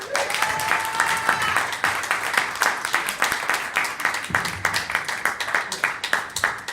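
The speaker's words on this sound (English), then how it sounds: "Ladies and gentlemen, please, a big hand of applause for Mike." An audience at an evening business book club event applauds steadily for several seconds, dense clapping close and fairly loud, with a few voices briefly audible early on.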